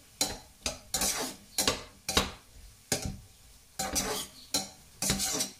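Pachamba being sautéed in a pan with a sprinkle of seasoning, a spatula scraping and stirring in about ten quick, rhythmic strokes over a soft sizzle, close and clear with no speech.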